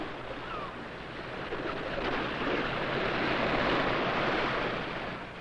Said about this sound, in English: At sunrise, it's so quiet you can hear the tide coming in.